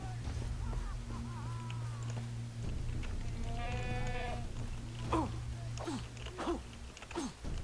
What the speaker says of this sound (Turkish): İki tane keçi bulduk.